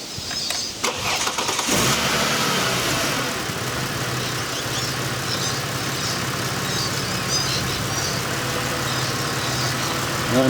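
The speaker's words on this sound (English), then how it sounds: "We'll just start her up." A Ford Falcon engine cranks and fires into life, then settles into a steady, smooth idle that continues close by with no talking.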